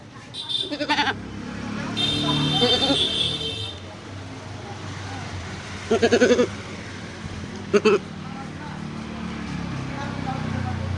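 A man imitates a goat's bleat, giving several short wavering bleats with pauses between them, close and loud, over a roadside background with passing traffic; other people talk around the calls.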